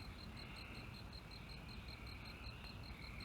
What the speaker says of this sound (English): all the crickets and frogs